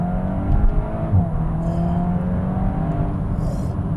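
Volkswagen Golf R 20 Years Edition engine breathing through an Akrapovic exhaust, a steady loud in-cabin drone with rising and falling harmonic tones as it pulls, no talking.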